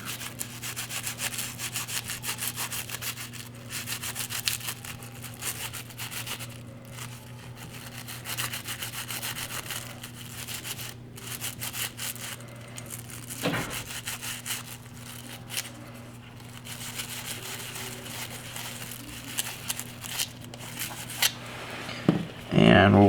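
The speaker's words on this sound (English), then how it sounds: "And same thing, just kind of scrub it." Parts of a Remington 870 Express shotgun are scrubbed with a brush in continuous close rasping, back-and-forth strokes over a steady low hum, with a few louder knocks near the end.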